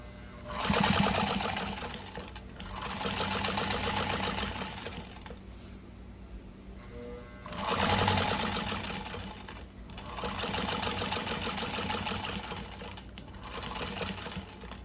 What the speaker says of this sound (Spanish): Dos puntadas bajo el prensatela y la máquina me va a coser hacia el frente.